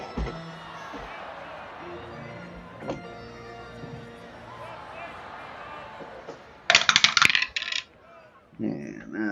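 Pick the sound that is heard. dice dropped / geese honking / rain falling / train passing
dice dropped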